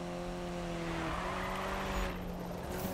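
A Nissan Silvia drifts in Need for Speed 2015: a steady, droning engine note with tire squeal over it, held for three seconds and easing slightly near the end, with no talk.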